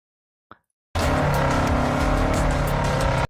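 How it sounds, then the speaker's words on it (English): A car in Test Drive Unlimited Solar Crown comes off throttle, the engine note rushing in loud and steady after a brief click and short silence, staying close with a racing whine and slight tyre squeal. "listen to it come off throttle"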